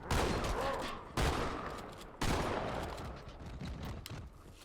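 Video game shotgun blasts from Halo 2, three heavy booming shots spaced about a second apart, each decaying into a rumbling tail, loud and close with no talk.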